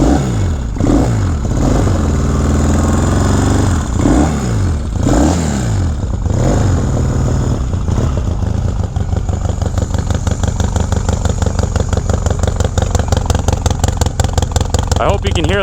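A 1972 Yamaha XS2 650 twin motorcycle engine runs close by, starting with a few rising and falling revs, then settling into a steady, rapid, loud idle pulse. Some talk is mixed in at the start.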